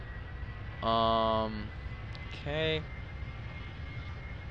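Business jet engine in the video game Extreme Landings Pro, a steady low, airy drone running under the whole stretch while someone speaks briefly twice.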